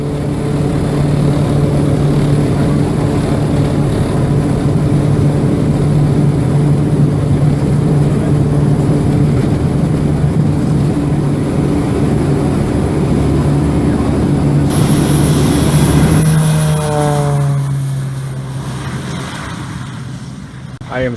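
A ten-seat propeller mission plane in flight, designed for mission aviation pilots, gives a steady droning engine hum with strong low tones. Late in the clip the pitch shifts and the drone fades as the engine note changes.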